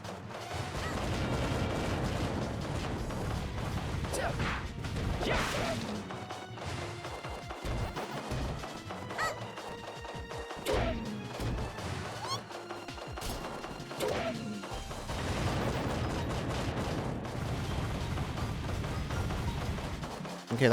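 Missile fire in the Pac-Man World 2 video game, a dense run of loud explosive crashes and thuds repeating over about twenty seconds amid continuous game music and effects.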